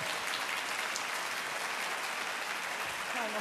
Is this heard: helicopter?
no